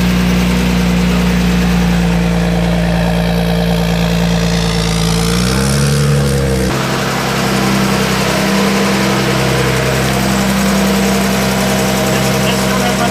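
A Talbot Lago T150C engine idles loud and close, a steady deep throb that shifts pitch briefly partway through, with voices talking over it.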